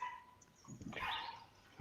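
A small dog in a backyard gives a few short, faint barks and yips at a distance, heard briefly against quiet background noise.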